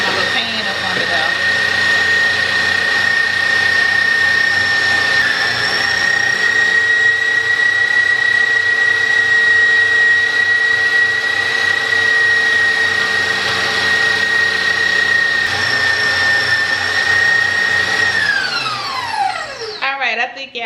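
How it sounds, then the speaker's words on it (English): An electric meat grinder runs at full speed grinding meat for Cajun boudin, a loud steady motor whine held for nearly twenty seconds before it winds down at the end. "Cut it on full blast so it gets through that."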